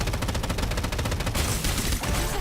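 Rapid automatic gunfire rattles in a Tower of Fantasy payload-escort battle, a loud, dense stream of shots that blurs into a heavier burst of explosions partway through.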